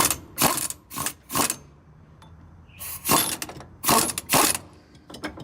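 A power gun runs in trac bar bracket bolts in short, loud ratcheting bursts of whirring, about seven spurts with brief pauses between them, close up.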